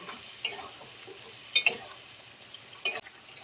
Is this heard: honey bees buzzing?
no